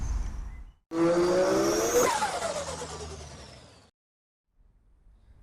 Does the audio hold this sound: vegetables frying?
no